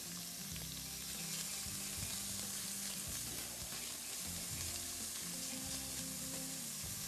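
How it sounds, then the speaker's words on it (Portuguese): Bacon frying in a pan with a little added fat gives a steady, dense sizzle and crackle that carries unbroken throughout, with no voices over it. "O bacon ele já vai soltar um pouquinho da gordura dele. A gente acrescenta um pouquinho mais de gordura para dar uma acelerada."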